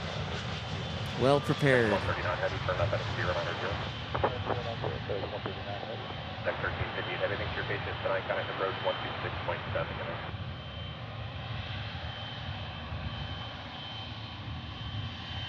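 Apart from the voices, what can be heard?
Boeing 757 jet landing at Memphis airport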